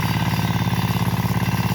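Small, low-powered Hathi tractor engine running close by, a loud, steady, rhythmic chugging idle.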